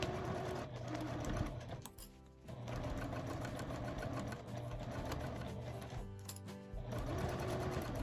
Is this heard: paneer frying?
no